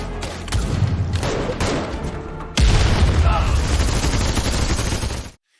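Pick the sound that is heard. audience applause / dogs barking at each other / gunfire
gunfire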